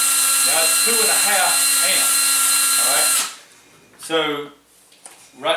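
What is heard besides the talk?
cordless drill running on battery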